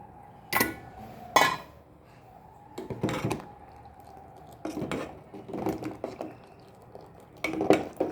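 Kitchen clatter of a pot and utensils as milk is added to urad dal porridge, with a few sharp metallic knocks and scrapes spaced through the clip, close by and moderately loud.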